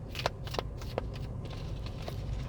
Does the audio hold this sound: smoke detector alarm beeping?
no